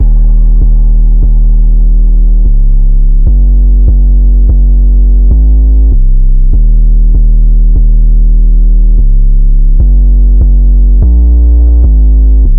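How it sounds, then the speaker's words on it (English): A deep, booming 808 bass from a Diego drum kit plays a looping pattern of sustained sliding notes, loud and dominant with no voice. "The first drum sound here is from a Diego kit. It's this 808, and the pattern sounds like this."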